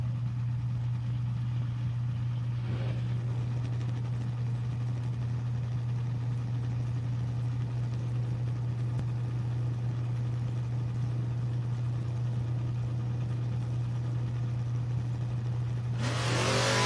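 Chevelle drag race car engine at a strip, a steady low continuous drone holding throughout with broad noise over it, rising into a louder burst near the end.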